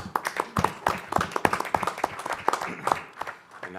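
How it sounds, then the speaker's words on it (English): A small group claps for a round of applause at a county board meeting, uneven individual hand claps close by, fairly brief and thinning toward the end. "I'm going to give you guys a round of applause."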